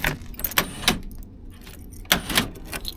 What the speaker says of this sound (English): Central locking works from this side.